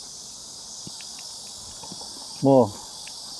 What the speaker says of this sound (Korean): 이게 중국 매미 같고요.